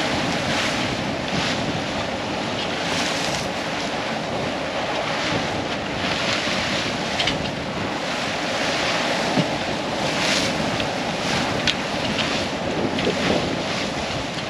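A sailboat under full sail pushes fast through open sea near Mykonos, with continuous rushing water, breaking waves and heavy wind buffeting close by.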